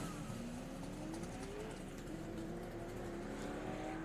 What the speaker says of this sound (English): Hobaugh with the advantage off the line. Quick acceleration and a lot of tire smoke.